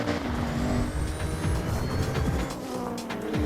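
A Nissan GT-R in the racing game Forza Horizon 6 roars with a rising engine pitch and quick gear-change breaks, loud and up front with no talking.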